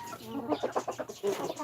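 A chicken clucks in a quick, uneven series of short calls with a brief higher squawk near the end, close by and fairly quiet, with no talk over it.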